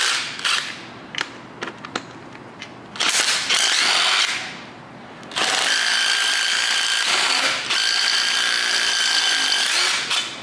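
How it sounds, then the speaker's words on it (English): A 9/16 socket driven by a tool to remove the alternator bracket from a Ford 302 small block engine: short bursts of clicking and rattling, then long, loud, steady mechanical whirring runs up close. "Now we can grab our 9/16 socket and remove our alternator bracket."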